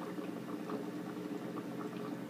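Water bubbles and gurgles softly and steadily during a water change in a hermit crab tank, sounding like a faint continuous pour or fill.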